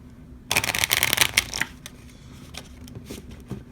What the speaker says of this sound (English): You can do a riffle shuffle